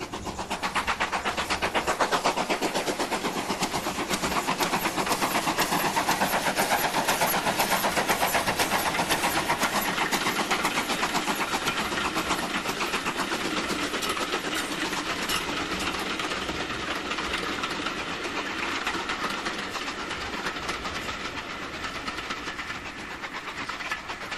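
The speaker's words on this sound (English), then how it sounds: "Another Great Western locomotive, modified Hall class, number 6960," A GWR modified Hall class steam locomotive, number 6960 Raveningham Hall, works hard with a loud, continuous chuffing roar and rapid rhythmic beats that stay steady throughout, no voices.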